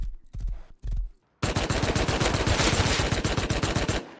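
Rapid automatic gunfire from the video game Rust: a few short bursts at first, then a long, loud sustained stream of shots up close, with no talk.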